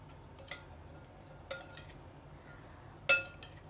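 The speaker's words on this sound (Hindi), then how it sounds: "इसको हम अच्छी तरह मिक्स कर लेंगे ताकि सारे मसाले हमारे छोलों के अंदर अच्छे से" Spoon clinking against a bowl while spices are mixed into boiled chickpeas for chana chaat, three sharp metallic taps spaced about a second apart over a faint background hum.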